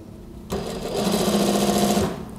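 A sewing machine stitching the lining of a gamis cardigan neckline kicks in after a short pause and runs in a loud, steady mechanical whir that holds to the end.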